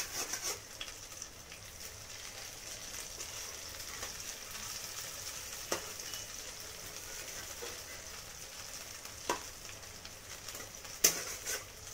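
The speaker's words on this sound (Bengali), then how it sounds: "দেখুন লাল লাল করে ভাজা হয়ে গিয়েছে, আমি তুলে নিচ্ছি।" Dhoka lentil cakes frying in hot oil make a steady, even sizzle throughout, with an occasional faint clink or tap rising briefly above it.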